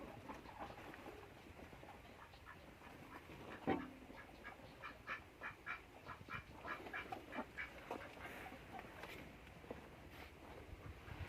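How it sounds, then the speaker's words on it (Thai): Several ducks in a pen quack in quick bursts nearby, a rapid irregular series of calls over faint background noise. "นี่คอกเป็ดครับ"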